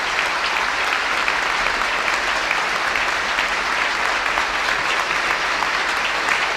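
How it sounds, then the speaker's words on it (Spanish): Standing audience applauding a prince at an awards ceremony in a theatre in Oviedo, a dense, steady roar of clapping that carries evenly through the whole stretch with no voices on top. "Los asistentes al Teatro Campo Amor de Oviedo se han puesto de pie para aplaudir al Príncipe de Asturias"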